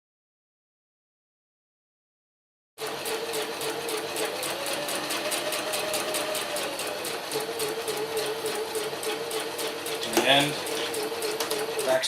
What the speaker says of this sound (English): you basically want to sew right down on top of the other seam that we've done